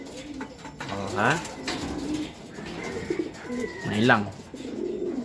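Racing pigeons at a loft during a derby race coo in a few soft bursts mixed among brief Filipino talk from a nearby person.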